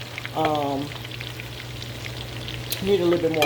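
Cheesy chicken fritters crackle and sizzle in a pan, a soft steady frying hiss with short bursts of someone talking near the start and end.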